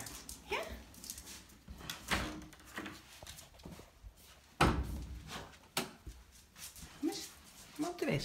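A small dog being weighed on a scale gives soft, intermittent whimpers and whines. A person keeps talking over it, and scattered knocks and thumps come from close by.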